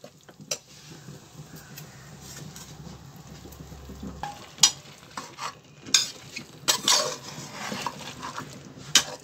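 Brinjal and drumstick pieces being stir-fried in masala: a spatula clatters and scrapes against the pan in irregular bursts over a soft, intermittent sizzle, close up with no voices.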